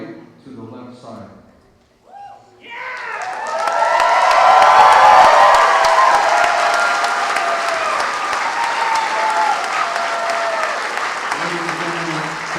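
Brief talk, then a big crowd at a fall university commencement breaks into loud applause mixed with cheers and whoops, swelling and holding before easing slightly as a voice returns near the end.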